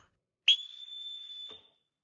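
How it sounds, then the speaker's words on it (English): A single sharp, steady whistle blast, blown to call children, holds for about a second before cutting off, heard alone against silence. "I could never answer to a whistle"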